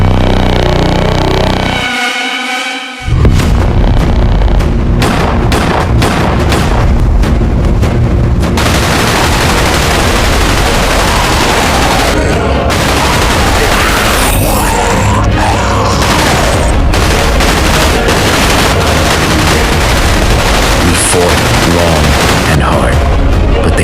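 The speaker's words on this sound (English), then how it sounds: "We formed up and opened fire." Soldiers open fire in a WW2 zombie battle: dense volleys of rifle and machine-gun shots, booms and blasts pile into a continuous loud barrage lasting over twenty seconds, with some voices mixed in.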